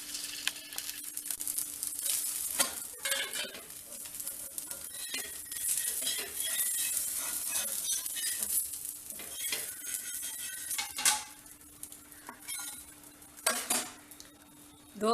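Spinach dosa made with mudakathan keerai batter cooks on a hot pan with a soft, steady sizzle, broken by scraping, stirring and metal clinks from utensils, some sharp and close, over a faint continuous hum.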